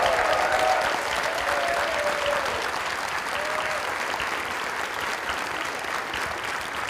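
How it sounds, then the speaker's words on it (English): Audience applause for Inupiaq teachers at the Kivgiq gathering, a steady, dense clapping across a large crowd that holds evenly throughout and fades slightly toward the end. "Let's give them a round of applause to our Inupiaq teachers."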